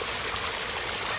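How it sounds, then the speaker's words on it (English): Water spills steadily over a backyard pond waterfall with a filter feature, making a constant, close, full rushing and splashing that never changes. "and then we have another beautiful waterfall"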